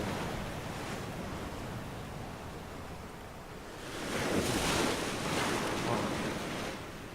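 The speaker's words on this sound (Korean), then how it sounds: "아, 파도 소리 때문에." Ocean waves in the battle royale game PUBG, a continuous rushing surf that swells louder midway, with some wind noise and no talk.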